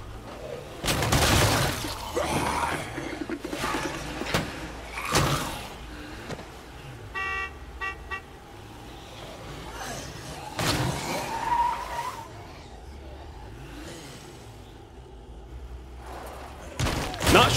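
A car rams a zombie with its bumper in State of Decay 2, with loud crunching impacts and engine noise in bursts and some shattering. A stretch of quieter driving sits in the middle, and heavier hits come near the end.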